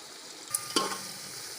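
Stuffed okra frying in oil: a steady low sizzle, interrupted midway by a couple of brief metallic clinks and scrapes from a utensil in the pan.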